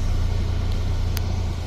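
A 1998 Toyota Caldina GT-T with the turbocharged 3S-GTE engine, AWD and a manual gearbox pulls away, giving a steady low rumble with a faint whine, heard from inside the car, brief and without talk.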